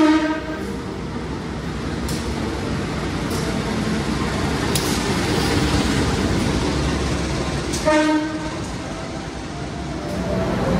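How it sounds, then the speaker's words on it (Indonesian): Joglosemarkerto economy train pulling into Semarang Tawang station, its horn sounding near the start and again around eight seconds over a steady rolling rumble of wheels and carriages close by. "Rangkaian kereta api Joglo-Semarkerto tiba di stasiun Semarang Tawang"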